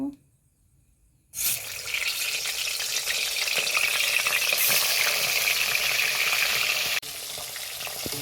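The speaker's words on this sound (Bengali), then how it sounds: "তো তেল গরম হয়ে গেছে, এবার মাছগুলো দিয়ে দেব" Rohu fish dropped into hot white oil, a short quiet moment before a loud, steady sizzle bursts in and holds close, with a brief drop near the end.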